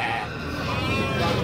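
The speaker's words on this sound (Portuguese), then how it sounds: "Carneiro, olha, o carneiro gordo. E a ovelha gorda." Sheep bleat at an outdoor pig and sheep livestock fair in Capoeiras, Pernambuco, Brazil, with a steady wavering cry over crowd murmur and background voices.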